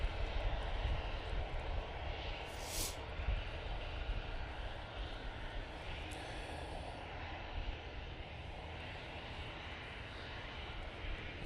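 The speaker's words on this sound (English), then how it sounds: "So the Emirates is on the taxi" Emirates airliner taxiing at Manchester Airport on a windy day, a steady broadband engine rumble and roar heard at a distance, continuous with gusty wind noise throughout.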